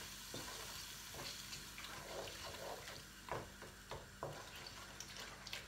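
Vegetable curry simmers and sizzles softly in the pot, a quiet steady bubbling broken by occasional stirring scrapes and knocks.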